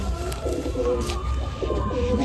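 A Madrasi pigeon cooing up close, low throaty warbling coos repeating steadily over a constant background hum, with no other voices.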